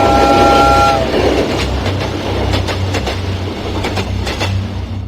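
A train passes on a railway line just outside a village, opening with a loud horn blast and then a close, rumbling roll of wagons with rhythmic clickety-clack.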